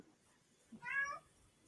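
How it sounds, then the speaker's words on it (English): A cat meows once, a short, fairly clear call near the microphone in an otherwise quiet room, with no talk over it. "My cat wants to come in on the video."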